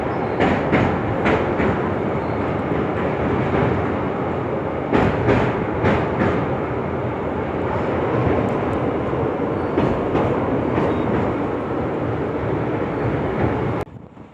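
Riding on board a passenger train from Ahmedabad to Rajkot: a constant loud rumble of the carriage with repeated clickety-clack of wheels over rail joints, and no voices.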